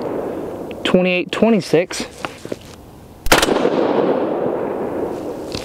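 A 22 ARC rifle firing 62-grain ELD-VT loads lets off one sharp, loud gunshot followed by a long fading echo, with someone speaking briefly just before the shot.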